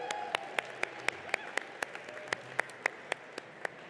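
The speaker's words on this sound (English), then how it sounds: "Let's give a big round of applause for all of our Unified Robotics program teams competing here today." Applause at a FIRST Robotics Competition district event, heard as sparse, evenly spaced sharp claps close by, roughly four per second, over a quieter murmur of a distant crowd in a large venue.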